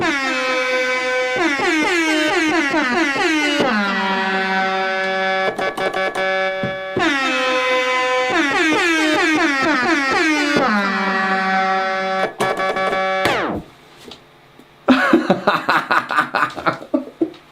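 A loud air horn sample played in piano mode on a Pioneer DDJ-REV5 DJ controller with rekordbox, in rhythmic bursts forming a repeating melodic pattern, then a run of quick rapid blasts at the end.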